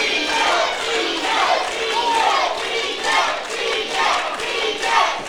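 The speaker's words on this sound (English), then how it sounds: "you hear the chants echoing through the halls" A wrestling crowd at a Reality of Wrestling show in Dayton, Texas chants loudly and rhythmically. The voices swell and fall in repeated waves and echo through the hall without a break.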